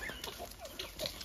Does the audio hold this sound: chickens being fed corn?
yes